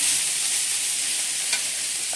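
Bitter gourd frying in a pan, a steady bright sizzle running throughout with a brief scrape of stirring partway through, close and continuous with no voices.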